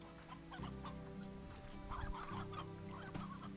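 Video game chicken clucking in a series of short, soft bursts over a steady tonal backdrop of game music, with no talking.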